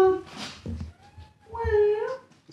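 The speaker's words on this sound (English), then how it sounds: "Come here, cat." A cat on a farm gives a meow-like call, with a second rising, wavering cry after a short pause. Close by and fairly clear, with background rustle and a voice nearby.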